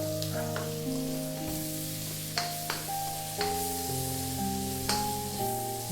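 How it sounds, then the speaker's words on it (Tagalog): Garlic and onion fry in oil in a pan for a Filipino pork stew (mechado), a steady sizzle running throughout with occasional stirring scrapes, close and fairly loud, no talking. "At isasabay na rin natin yung ating sibuyas. Mag-a-add po ako ng konting mantika."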